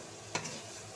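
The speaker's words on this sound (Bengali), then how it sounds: "এভাবে 4-5 মিনিট ভেজে নেবেন। সয়াবিনগুলো ভালো করে ভেজে নিলে" Soya chunks frying in a pan give a short, steady sizzle with one brief scrape of stirring near the middle.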